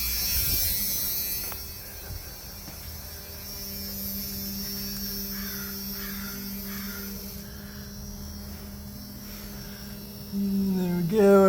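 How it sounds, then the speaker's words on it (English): A Jeep Cherokee fuel pump hums with a steady electric buzz as it pressurizes the fuel rail, a continuous drone under faint background noise that swells louder at the very end. "I can put the key in right now and see. Pressurize the fuel rail."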